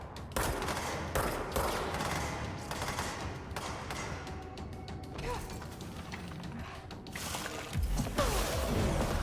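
Repeated gunfire from a weapon in the video game Control cracks out in rapid bursts, loud and close, with mechanical clanks and crashing debris mixed in throughout.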